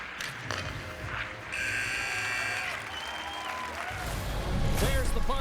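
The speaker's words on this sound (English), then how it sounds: "There's the buzzer." A sustained electronic horn blares for about a second to end a period in the NHL 25 hockey video game, sounding over crowd noise and play-by-play commentary, with the crowd swelling louder afterward.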